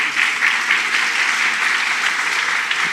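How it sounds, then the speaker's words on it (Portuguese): Steady applause from a crowd at a pastors' union gathering, dense and continuous clapping throughout with no pauses. "Vamos aplaudir o Senhor pela vida dele"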